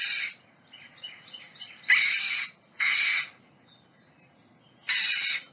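Northern mockingbird calling: four harsh, raspy squawks in separate bursts, the first three close together and the last after a pause, loud and near over a quiet background.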